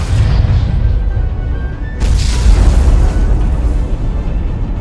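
Starship torpedoes fire and explode in a Star Trek: Resurgence space battle, with several deep booming blasts over a continuous low rumble and a louder burst midway through.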